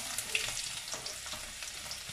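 Cumin seeds crackling in hot oil as cloves, black pepper, ginger and garlic go in for chole, a close, soft, continuous sizzle with small pops and stirring.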